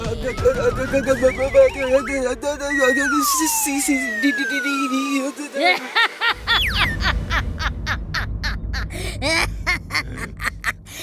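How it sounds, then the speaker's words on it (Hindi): A cartoon donkey brays in loud wavering whinny-like cries with sliding pitch, followed by a rapid pulsing series of snickering honks, close and alone. "ये गधा चिंटू का दोस्त लगता है।"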